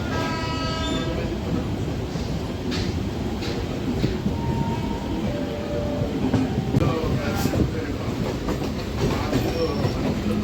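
A Sealdah–Kalyani Simanta EMU local train rumbles continuously as it crosses Kolkata's Circular Canal, with steady loud wheel and track noise, brief horn tones and faint clacking throughout.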